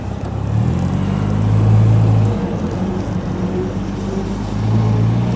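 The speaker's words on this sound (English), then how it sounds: "now we'll go for a, a quick little drive around" A 1960 MG MGA Roadster drives along with a low, throaty engine drone that swells twice as it accelerates, then settles back to a steady cruise, with no talking over it.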